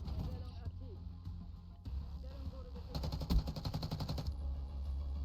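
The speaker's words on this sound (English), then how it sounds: "That was a long-range gunfight." Rapid automatic gunfire from a long-range gunfight in the Black Ops 6 video game bursts out midway as a dense rattling volley, preceded by scattered game sounds, with a voice talking throughout.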